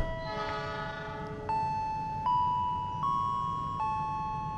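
A freight train on the Jakarta–Jogja line sounds a series of sustained horn blasts that step to new pitches every second or so, clear and fairly close over a low rumbling background.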